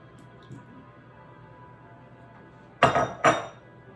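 Two sharp clattering knocks land close together as cooked pasta goes into a baking dish, loud and near against a faint quiet kitchen background.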